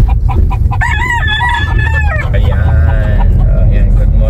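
Roosters crow loudly and close by in the morning in Lopez, Quezon, several overlapping calls with clucking hens and farmyard noise underneath.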